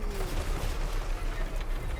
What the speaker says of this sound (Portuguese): Lá vem os tiros do Hellblaster Volley Gun.